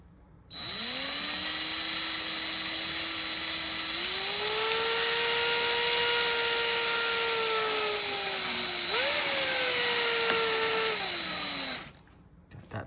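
A power drill drives small screws into a Kwikset Halo keypad deadbolt, its motor whining at a steady high pitch for about eleven seconds, rising in speed twice before cutting off, close and loud with no talk.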